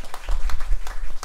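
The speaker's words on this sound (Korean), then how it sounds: "우리 박수로 환영하겠습니다" A church congregation claps to welcome new members during a Sunday service, a short burst of loud, fairly close applause with uneven rhythmic claps.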